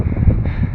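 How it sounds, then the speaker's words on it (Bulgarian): Wind blows across the summit of Botev peak, a continuous low buffeting roar gusting against the microphone, loud and close. "Естествено духа вятър."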